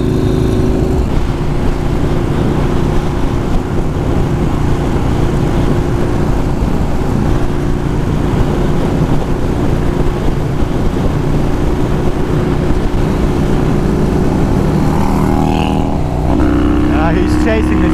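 A turbocharged Yamaha Warrior 1700 cruiser on the road, its deep engine drone steady and loud under constant wind rush, with a voice talking over it for much of the ride.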